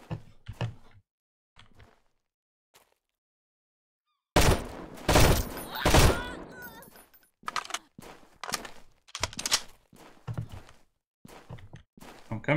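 Gunfire in the survival video game Sunkenland comes as loud bursts of rapid shots with short gaps between them, after a quiet stretch with scattered footsteps at the start.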